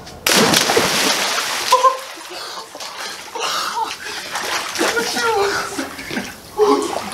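Cold water at 63 degrees splashes and sloshes as a person plunges in, with bursts of splashing and churning water close by, broken by short gaps and mixed with excited voices talking.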